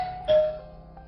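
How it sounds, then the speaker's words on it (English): A house doorbell chimes once on Halloween night, a single clear ding that rings out and fades, quiet and alone. "The doorbell then rang again"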